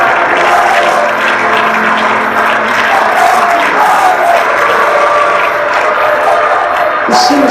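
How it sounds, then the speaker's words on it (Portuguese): Large funeral crowd applauding the Pope's coffin, a dense continuous wash of clapping and crowd noise that holds steady and loud throughout, with no break. "O corpo do Papa recebe um aplauso interminável."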